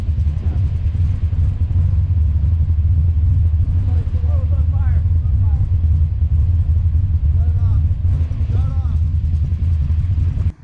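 A 1969 Camaro with a naturally aspirated big block pulls hard at around 55 mph, its deep rumbling exhaust roaring steadily and close while tires squeal briefly.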